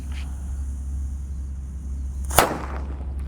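A single mercon gledek firecracker bursts with one sharp, loud crack near the end, after a stretch of low steady background hum and quiet outdoor noise.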